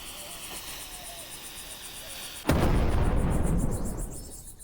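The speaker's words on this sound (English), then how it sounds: "That was a lot of sticks of dynamite." A dynamite explosion in the western point-and-click game Rosewater: after quiet ambience with insect-like chirping, one sudden loud blast hits, then a broad roaring rumble that slowly fades away.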